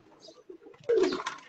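Black-faced Sialkoti pigeons give a short, soft coo close by, a low throaty call rising briefly out of near silence, faint overall.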